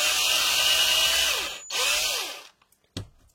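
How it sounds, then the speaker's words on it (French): A drill bores out a screw hole in a Dellorto carburetor from a Peugeot 103 moped, a close, high whine that dips and stops briefly, restarts, then winds down to a few small clicks and taps. "On perce vraiment droit."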